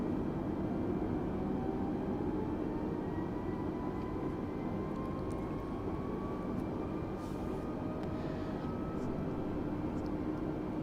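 Steady broadband engine and airflow drone of an A320neo cruising near flight level 300 in Microsoft Flight Simulator 2020, a flight from Kushiro to Tokyo Haneda, with faint tonal whines sliding across the constant roar.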